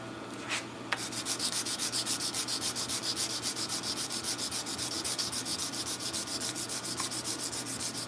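A sword blade is hand sanded with 180 grit sandpaper, giving close, rhythmic rubbing strokes about twice a second that run on evenly after a brief start.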